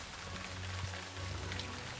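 Rain falls steadily during a storm, a soft continuous patter of drops on surfaces under a low background hum, faint and even throughout with no voices.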